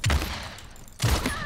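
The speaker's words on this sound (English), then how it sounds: "I think I'm being shot from behind, perhaps." Two bursts of gunfire from behind in the battle royale game Paladins Realm Royale, each a quick volley of shots about a second apart, loud and close.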